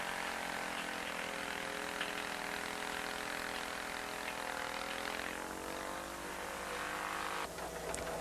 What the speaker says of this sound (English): You can rent one of these walk-behind home tillers if you don't own one